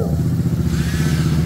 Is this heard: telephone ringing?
no